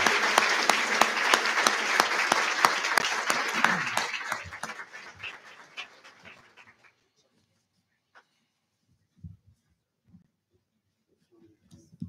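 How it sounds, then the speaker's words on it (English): Applause from a commencement audience for graduating science candidates at a summer master's ceremony, dense clapping fading out after about five seconds, followed by scattered faint claps and murmurs in a quiet hall. "one more round of applause for our science candidates,"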